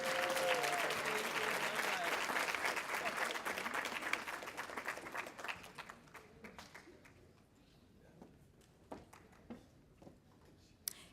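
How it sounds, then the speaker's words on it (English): Applause for graduates at a university Black celebratory graduation, a dense, loud burst of crowd clapping that thins out and fades into scattered claps. "Can we please have one more round of applause for all of our graduates?"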